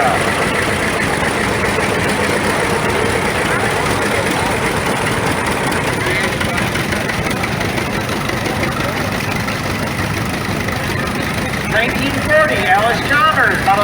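A John Deere Model G tractor engine chugs steadily at an old-engine show parade, running as a continuous low drone with other engine noise around it.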